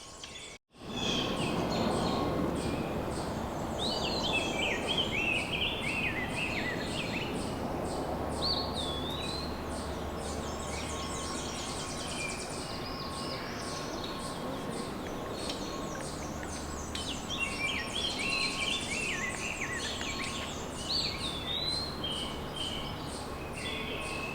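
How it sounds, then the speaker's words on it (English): Spring woodland chorus of songbirds, including eastern wood-pewee, rose-breasted grosbeak, Tennessee warbler, northern parula and bay-breasted warbler, with overlapping high warbling phrases and thin buzzy trills at moderate distance, repeating over a steady hiss of insects and low background rumble. "you can hear a number of other birds singing as well, including rose-breasted grosbeak, Tennessee warbler, northern parula, and bay-breasted warbler"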